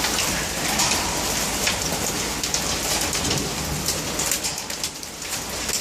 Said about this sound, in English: How big is the hail? You can see it bouncing here.